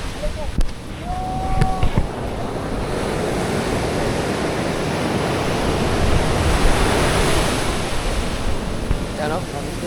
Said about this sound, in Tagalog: Lakas ng alon natin dito.